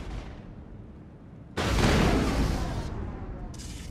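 Gunfire and a blast in the sci-fi shooter Mass Effect, with quiet rumbling ambience that suddenly gives way to a loud, broad burst of firing that fades and then flares again briefly near the end.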